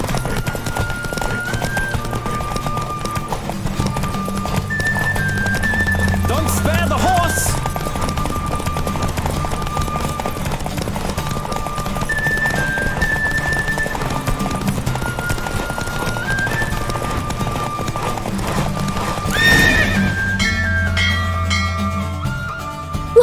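A horse gallops in The Witcher 3: Wild Hunt during a race, with steady clip-clop hoofbeats throughout and a couple of loud neighs. Game music plays continuously underneath.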